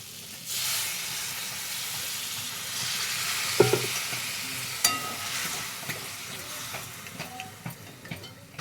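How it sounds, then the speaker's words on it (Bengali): Fried potatoes stirred in a pan of spice masala for egg curry, a soft steady sizzle with faint scraping and a few sharp clinks of the spoon. "ভেজে রাখা আলুগুলো সব ঢেলে দেব দিয়ে আবারও নাড়াচাড়া করে নেব"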